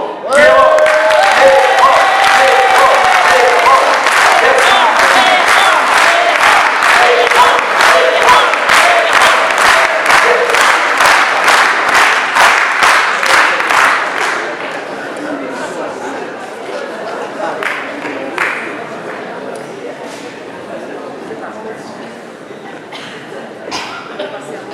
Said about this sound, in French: vous pouvez l'applaudir, que dis-je, l'acclamer,